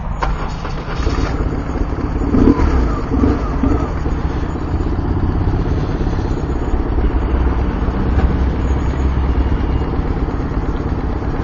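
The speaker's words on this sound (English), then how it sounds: "Okay, let's get the old bike going and get going." A motorcycle engine runs loud and close for the whole stretch, a steady mid-pitched idle with some clatter. Voices talk over it in places.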